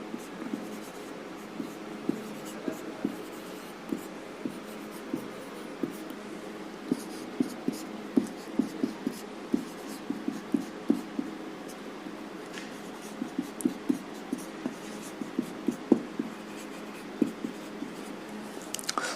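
Teaching a Hindi alphabet class, someone writes on a board, making soft scratchy strokes and irregular taps and clicks in short bursts over a quiet room hum.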